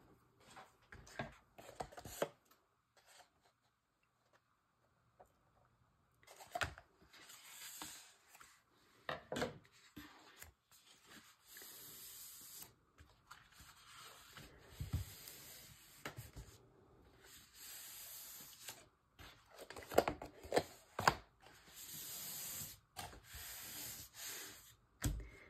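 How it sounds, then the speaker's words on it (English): Chipboard pieces being cut out for a scrapbook album base, heard as intermittent rasping scissor or blade strokes on board between quiet pauses, close up with no speech. "And then you just cut those out."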